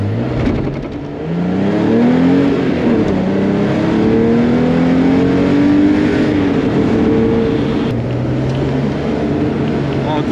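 A backdated Porsche 911 makes another pass, its engine note rising and revving steadily as it drives by, loud and close throughout with wind and road noise mixed in.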